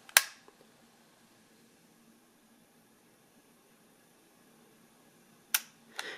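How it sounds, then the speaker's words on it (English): A Canon 110E pocket camera fires a sharp shutter click, then about five seconds of quiet hiss during a long exposure, ending with a second click and a brief mechanical rattle. "It's a long shutter."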